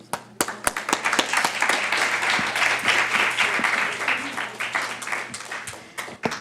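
A crowd claps steadily for a Mexican dance troupe taking the stage at a minority mental health awareness event, with dense hand-clapping sustained throughout and some sharp individual claps near the front.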